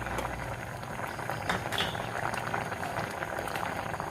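Kerala-style fish curry bubbles steadily in a pot as ground coconut paste is poured in, a continuous close boiling burble with small liquid splashes and no talking.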